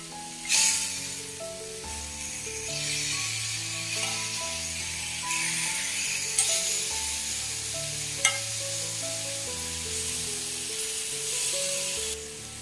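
Pineapple pieces sizzle on a hot pan over a medium flame, a steady soft frying hiss with a few sharper crackles, heard under background music with no talking.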